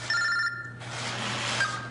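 An old-school flip phone rings with an electronic bell-like tone, a clear ringing burst up close followed by a brief pause and then more ringing, with no talk over it.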